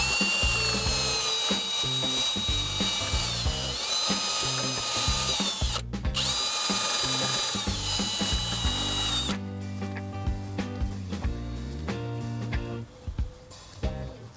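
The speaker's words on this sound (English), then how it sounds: "You can help yourself with power tools." A power tool with a wire brush cleans the brake caliper of a Renault Laguna 3, a loud steady high-pitched whine with grinding that cuts out briefly, then drops to a lower, choppier ratcheting mechanical whir with short bursts near the end.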